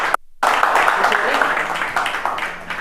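An audience claps at a business seminar after a brief silent dropout, a dense, loud patter of many hands that carries on steadily, with some murmured voices mixed in.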